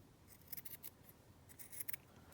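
Scissors snip through paper ephemera in a few quick, close, quiet cuts, bunched in two short bursts with a pause between.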